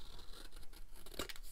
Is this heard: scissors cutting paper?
yes